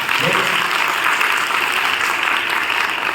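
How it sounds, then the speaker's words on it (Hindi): An audience gives loud applause for the Brahma Kumaris sisters at a women's college gathering, a thick, steady roar of many hands clapping close and strong throughout, with a brief voice near the start. "जोर से तालियां तो बजा सकते हैं"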